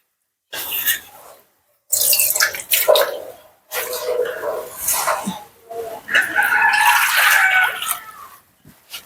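Water poured into a pan of spice paste being fried for a fish curry in a home kitchen, giving bursts of hissing sizzle and bubbling that come in several waves with short pauses between.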